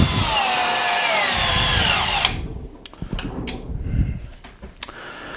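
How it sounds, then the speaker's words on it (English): A Milwaukee M12 drill in gear setting 1 whirs loudly for about two seconds as it drives a screw into wood, then stops, leaving a few faint clicks and handling knocks. "So the drill didn't really have any trouble in gear setting 1 with driving that in."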